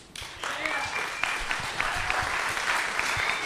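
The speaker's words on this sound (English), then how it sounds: "give applause to my team" After a BKFC 82 bare-knuckle fighting event in Newark, the press conference room applauds the organiser's team, a moderate and fairly close patter of clapping with a few sharp claps standing out.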